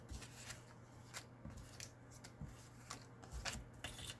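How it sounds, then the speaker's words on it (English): Close, quiet snipping of scissors through Flirty Flamingo patterned paper, a steady series of small crisp cuts and rustles with no talking. "So I'm going to cut some Flirty Flamingo."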